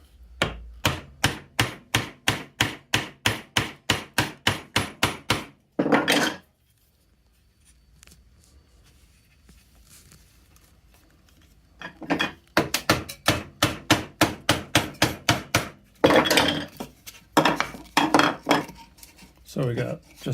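A chisel chops hand-cut through dovetails in wood, with a fast steady run of sharp mallet-driven strikes, then a quiet pause, then further rapid series of close, crisp blows.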